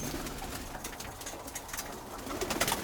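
Soft, low coos from molting Birmingham Roller pigeons repeat in the background amid faint rustling, fairly distant and quiet.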